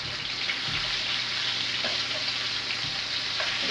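Oxtails sear in a hot frying pan, a loud steady sizzle close up with a few soft knocks from the pan, no voices.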